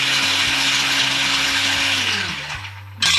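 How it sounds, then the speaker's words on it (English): Electric blender whirring loudly as it blends chopped garlic, a steady close motor whine that slows and winds down near the end before a brief jolt, with no voices. "So I'm just going to show you how I blend it."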